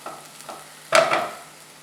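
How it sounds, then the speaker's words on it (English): A spoon stirs tomato masala in a pot, with a few soft scrapes followed by a louder, close stirring swish that fades out. "Giving it a good stir, we'll now close the pot"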